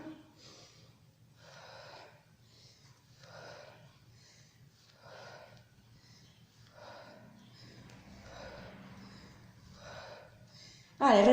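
Heavy rhythmic exhaling during a full-body bodyweight workout, about ten breathy puffs spaced roughly a second apart, close and moderately faint over a low background hum.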